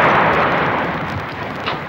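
Artillery shell blast close by during the Serb bombardment of Sarajevo in 1995, a loud broadband roar that fills the whole clip and slowly decays, with a small crack near the end.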